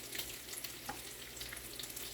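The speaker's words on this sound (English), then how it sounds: "I like to rotate it into that spot so that the bacon can cook at the same time" Bacon frying in a pan while breakfast cooks, a steady close sizzle with soft crackling pops running throughout, no voices.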